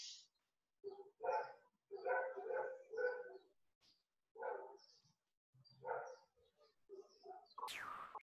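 Dogs bark in a run of separate, mid-distance yaps and woofs with short pauses between them, clear against a quiet background.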